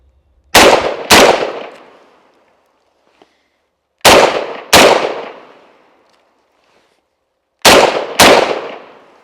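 Three pairs of loud .50 Beowulf rifle shots fired as quick double taps, each pair a sharp crack followed closely by a second, separated by a few seconds of quiet with a faint click between.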